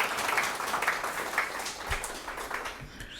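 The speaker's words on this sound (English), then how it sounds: "Give Sarah a round of applause." Audience applause at the Charmoli Center reopening in Louisville, a steady wash of many hands clapping that holds at an even level throughout, with no voices over it.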